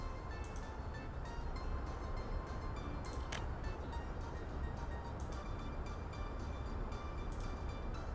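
A train runs in the Soviet-era city-building game Workers & Resources: Soviet Republic as a steady, dense rumble of rolling wagons, with faint clicks and a few thin tonal accents over the unbroken low roar.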